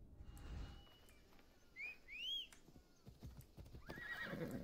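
A unicorn mount in Assassin's Creed Odyssey trots with steady hoof clops and gives two bright, rising whinnies midway, fairly soft and close, with a faint whistle-like shimmer behind.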